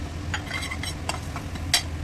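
A spoon stirs paste and tempering with chopped green chillies and coriander inside a pressure cooker, producing a few soft scraping and clinking strokes over a low sizzle, close and fairly quiet.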